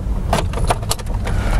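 Car keys in a protective cover, belonging to a VW Gol Power, jingle close by in a few quick, bright clusters over a steady low background rumble.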